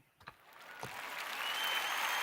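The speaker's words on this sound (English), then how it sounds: "Where am I clapping at?" Hand clapping that starts with a couple of sharp separate claps and swells into sustained applause, steadily growing louder and denser toward the end.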